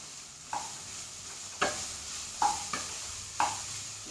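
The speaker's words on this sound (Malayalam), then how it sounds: "ഇനി നമുക്ക് ഇതങ്ങോട്ട് ഇളക്കാം" A spoon stirs pappadam rice, cooked rice mixed with crushed pappadam, in a pan. It makes close scraping strokes about once a second over a faint, steady background hiss, with no talking.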